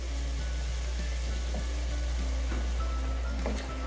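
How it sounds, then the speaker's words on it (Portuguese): Onion, tomato and seasoning frying in a pan for a meatball pasta sauce, a steady soft crackling sizzle with faint hum underneath, no talking. "nós vamos deixar fritar aqui o temperinho com a cebola, com o tomate"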